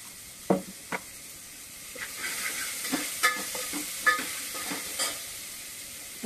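Sambar ingredients sauté in a hot pan with bursts of sizzling and scraping stirs, a spoon knocking and turning the mix in irregular strokes over a soft frying hiss.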